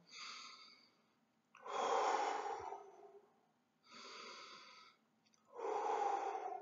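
Slow, deep breaths taken as a relaxation exercise, close and fairly quiet, alternating long inhales and exhales of about a second and a half each, with soft pauses between them.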